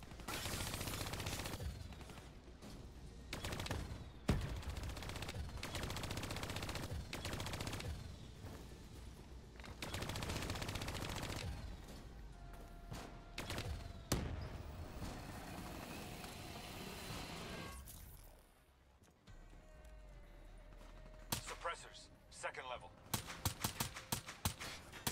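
Gunfire in Call of Duty Black Ops 3 crackles in repeated bursts amid rumbling engines and combat noise, fairly quiet overall, with sharp rapid shots clustering near the end and a voice speaking at points.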